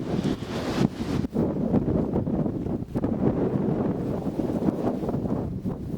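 Strong gusts of wind roar through trees and buffet the microphone in a loud, continuous rush with brief dips, no speech heard.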